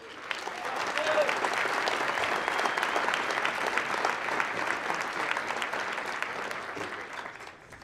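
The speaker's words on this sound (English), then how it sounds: "I do hope you give her a warm round of applause as she steps forward to the mic" Sustained applause from an evening celebration audience welcoming a woman stepping up to the microphone, a dense steady clapping that swells in the first second and holds fairly loud until it tapers at the end.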